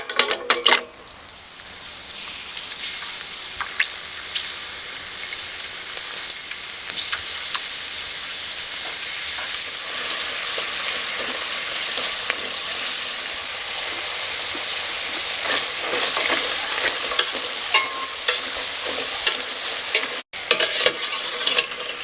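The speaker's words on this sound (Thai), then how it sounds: "น้ำมันร้อนแล้วก็เกียบใส่ไป" Sun-dried enoki mushroom rice crackers frying in hot oil, a continuous close sizzle and bubbling with occasional stirring clinks, steady throughout with no talking.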